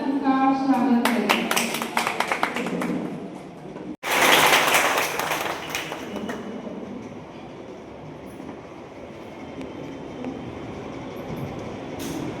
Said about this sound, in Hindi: तो आइए जोरदार तालियों के साथ उनका स्वागत करें।